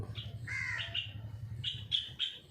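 Several harsh, squawking bird calls in short bursts, fairly close, over a steady low hum in the background.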